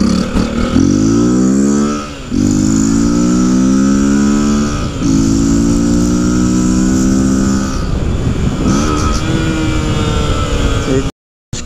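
A Honda XRE 300 motorcycle engine runs loudly up close, rising in pitch through several gear pulls separated by brief shifts, the revs climbing steadily in each, before a sudden short cutoff near the end.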